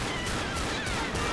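Dense gunfire in the Left 4 Dead video game, a continuous loud barrage of overlapping shots with no clear gaps, brief and close.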